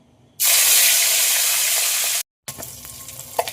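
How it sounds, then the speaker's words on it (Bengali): Turmeric-and-salt-rubbed catla fish pieces hit hot oil with a sudden loud, steady sizzle that holds for about two seconds, then drops out briefly before quieter crackling and spattering return. "গরম হয়ে গেছে, এবার মাছগুলো আমি ভাজার জন্য ছেড়ে দেবো"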